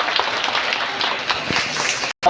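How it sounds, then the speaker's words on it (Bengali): Audience at a children's carnival event applauding, a steady loud wash of clapping that runs nearly the whole stretch before cutting off abruptly near the end. "স্যারের জন্য জোরে হাততালি দাও।"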